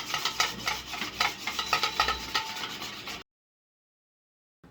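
Eggs with refined oil being beaten for an oats cake, a quick rhythmic whisking and scraping in a bowl for about three seconds, close and fairly quiet, then silence.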